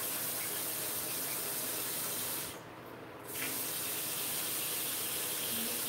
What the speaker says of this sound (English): This is the faucet in the kitchen, the new one I showed y'all.